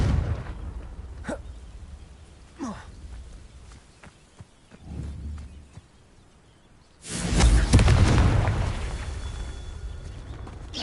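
A Confringo explosion spell from the game Hogwarts Legacy, a loud broadband burst at about seven seconds that lingers for a few seconds, following quieter scattered game sounds.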